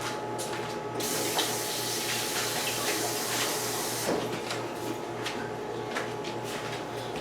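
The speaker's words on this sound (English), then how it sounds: "I'm going to rinse my hands off." Tap water runs over hands being rinsed at a kitchen sink, a close, continuous splashing hiss that briefly changes as the hands move under the stream.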